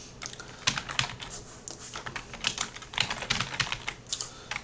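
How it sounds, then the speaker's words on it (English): Fingers type fast on a computer keyboard while installing software plugins, a dense, close run of crisp key clicks in uneven bursts with short pauses and no talking. "my typing is just on point today"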